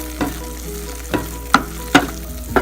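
Minced keema fries in a pan, a steady low sizzle broken by five sharp spatula knocks and scrapes as the meat is broken up. The sounds are close and loud.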